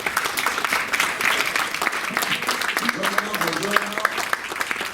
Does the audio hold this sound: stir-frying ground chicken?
no